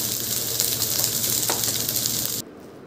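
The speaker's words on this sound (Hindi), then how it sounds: "अब मैं गोभी में आलू डालकर इसे भूंजूंगी" Potatoes and cauliflower sizzle and fry steadily in a pan for a Bihari thali, a close, continuous hissing crackle with light stirring that cuts off abruptly near the end.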